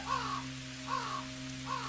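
A crow caws three times at an even pace in an abandoned amusement park video game, each call harsh and mid-loud over a steady low electronic hum.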